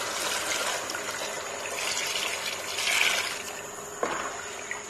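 Water is poured into a chicken and potato curry after the onion, ginger, garlic and tomato masala is fried. It makes a steady, close splashing pour that swells slightly before a brief thud near the end.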